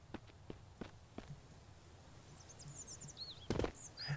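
Footsteps of the player character in Mist Survival: a few faint, evenly spaced thuds at the start, then a louder scuffing step near the end, with quiet bird chirps in the distant background.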